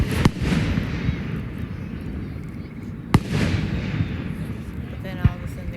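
Fireworks burst outdoors, with sharp bangs and crackling spread over a continuous rumble of distant launches, heard from a short distance.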